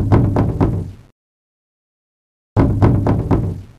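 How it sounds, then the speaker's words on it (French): Knuckles rap loudly on a door in a quick cluster of three or four knocks, then silence for over a second, then another rapid run of knocks. "on frappe à la porte"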